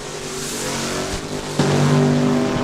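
A 1975 AMC Hornet drag car roars down the strip at a rod race, its engine tone steady then jumping sharply louder and higher as a second burst of revving cuts in, close and loud with no talk.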